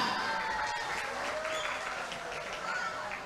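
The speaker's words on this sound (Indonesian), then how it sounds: "Tepuk tangan buat Pagesangan." An audience claps steadily throughout at a talk on an ancient village in Surabaya, a dense sustained patter of many hands, moderately distant, with a voice speaking over it.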